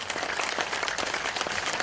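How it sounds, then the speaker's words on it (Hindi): Fast, steady hand clapping during a breathing and movement exercise, dense and continuous with no pauses, at moderate loudness and no voices. "हमें ताली बजानी है, ध्वनि करनी है तेज"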